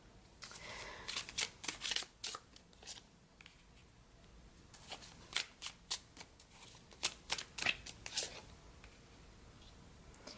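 An oracle card deck being shuffled by hand: a run of quick, crisp riffling bursts in uneven clusters, close and fairly quiet, with no voices.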